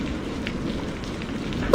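Steady rain falls on a riverbank, a soft, even hiss of drops on surfaces with no talk over it.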